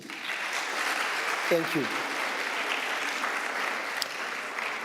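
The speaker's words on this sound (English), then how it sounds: "And let's also clap for the team." A university research conference audience applauds the organizing team with a soft, steady wash of clapping, while a voice briefly speaks over it.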